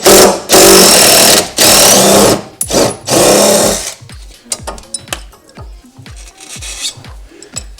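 A ratchet wrench unbolts the sway bar end links on a Subaru, with long loud bursts of whirring tool noise followed by a run of quick ratcheting clicks.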